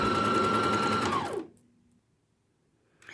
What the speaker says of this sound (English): I'm just going to go ahead and continue on sewing down the length of this fabric